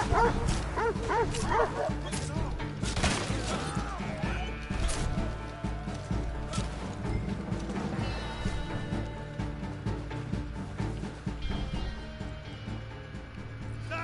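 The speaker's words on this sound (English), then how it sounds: "Yo, if these dogs don't shut up." Dogs bark and yip repeatedly in the Red Dead Online video game, loud and persistent amid dense game sounds, music and crashes, with players talking over it.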